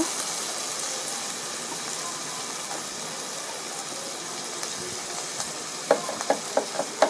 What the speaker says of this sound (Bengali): পেঁয়াজ রসুন বাটা হয়ে দিয়ে দিব। এবার ভালোভাবে মিক্স করব।